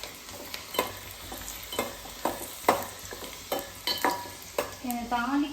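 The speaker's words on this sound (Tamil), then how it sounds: "அப்படியே வதக்குப்பா, அதனால ஃப்ரை ஆகும்." Tomato sizzles and fries in a pan while being stirred, with repeated scraping strokes every half second or so, close and fairly loud.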